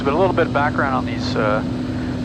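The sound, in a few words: Piper Saratoga single-engine airplane climbing in flight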